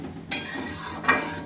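Water hits a hot frying pan in a home kitchen, two short bursts of sizzling hiss, close and fairly loud, with no talk.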